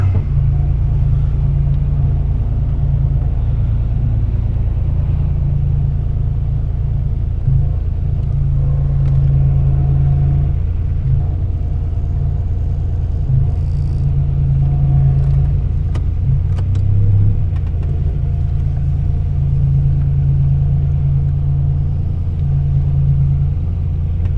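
A 1986 Buick T-Type engine idles and runs as the car backs out, holding a loud, close, steady low rumble with slight rises in pitch for the whole stretch.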